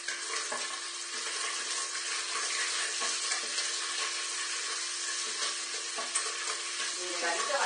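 Rabbit pieces frying in a pan for rabbit in almond sauce, a continuous close sizzle with scattered spattering pops throughout, no talk.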